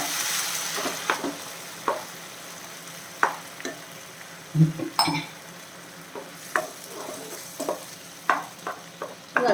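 Jaggery syrup boils in a pan for a homemade healthy snack, a constant close bubbling hiss broken by scattered stirring scrapes and clinks against the metal.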